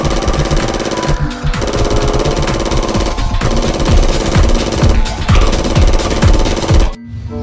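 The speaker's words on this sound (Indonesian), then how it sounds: "Wow, tembakan laras panjang di kobra." Long-barrel gunfire from a Cobra helicopter in a game, a loud, continuous rapid hammering stream of shots with brief pauses, running steadily before cutting off near the end.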